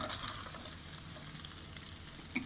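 Tomato paste and eggplants frying in a pan, giving a soft steady sizzle with faint crackles and a brief scrape or clink near the end, quiet and continuous.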